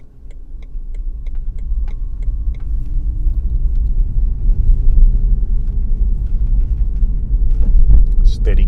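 A BMW i3 electric car drives along a hilly road, giving a steady low rumble of tyres and road noise with faint ticking, heard from inside the cabin.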